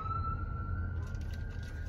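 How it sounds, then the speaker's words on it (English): A distant siren wails with a steady high tone over low traffic rumble, fairly faint and continuous. "Yeah, that's a ambulance. Ambulance."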